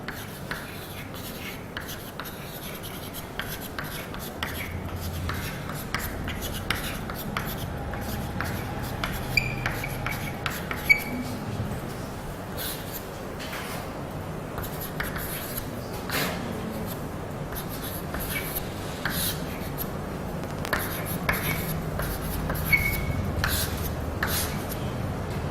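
A teacher writes notes on a board during a physics lesson on vectors, a steady soft scratching and tapping that runs for the whole stretch at moderate level with no speech over it.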